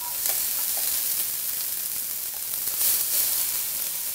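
Fried rice being stir-fried in a pan gives a steady, loud sizzle with crackling throughout, with no voices.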